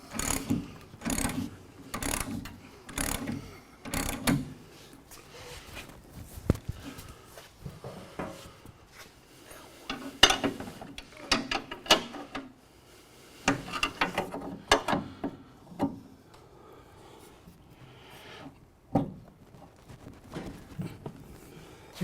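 A coil spring compressor tool is tightened on a car suspension spring, with bursts of sharp ratcheting clicks in quick runs separated by pauses, close and fairly quiet.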